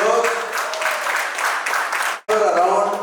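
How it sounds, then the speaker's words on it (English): An event audience honours its title sponsor with loud, dense applause, sustained clapping from many hands filling the room, cut by a brief gap near the end before resuming. "Let's give a big round of applause."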